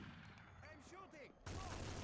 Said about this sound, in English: I'm shooting!